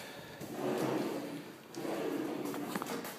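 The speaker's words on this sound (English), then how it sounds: "Soft closing drawers." Soft-closing cabinet doors and drawers in a custom woodworked bathroom vanity slide shut twice in a row, each a soft, muffled rolling glide ending in a gentle thud, heard close and fairly quiet with no talking.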